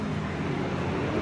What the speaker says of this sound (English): That's a bus. That is really loud.